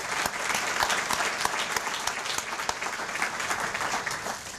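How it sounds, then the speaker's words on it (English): An audience at a chamber of commerce luncheon applauds an award winner, a dense, steady round of clapping with many individual claps audible, moderately close and sustained for several seconds without talk. "Another round of applause for our Founders Award winner."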